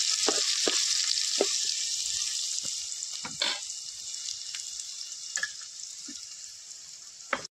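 Oil for tempering a Malvani crab curry sizzles loudly and steadily in a pan, with a few brief clicks and stirring knocks and no talking.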